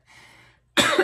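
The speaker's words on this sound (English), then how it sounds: "I still have that cough." A soft breathy sound fades out, then after a brief silence comes a single harsh, loud cough close by.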